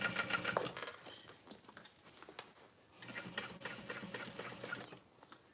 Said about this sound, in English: I am going to backstitch when I get to those side pockets.